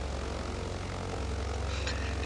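A Britten-Norman Islander propeller engine roars at full throttle, a loud steady drone with a throbbing low rumble, close and continuous throughout.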